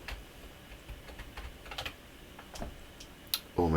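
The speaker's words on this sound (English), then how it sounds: "Maybe my keyboard stopped working." Keys clatter on an Amiga 1200 keyboard in scattered, quiet taps and short bursts, close and faint, ending in a quick louder flurry.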